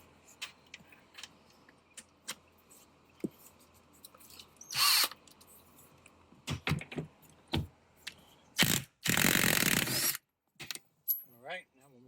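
A power drill works on the bolts of a front seat in a 2004 Jeep Liberty Limited. There are two short, sharp whirring bursts, with scattered clicks, rattles and handling knocks in between in a quiet space.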